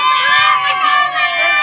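A group of children shout together in a loud, sustained cheer lasting under two seconds, their mixed high voices blending into one continuous burst close by.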